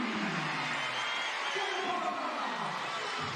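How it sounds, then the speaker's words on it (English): A basketball arena crowd at a WNBL women's game cheers after a three-pointer, giving a steady, broad roar that holds for several seconds. "The crowd love getting up and about when Gemma Potter knocks down a three."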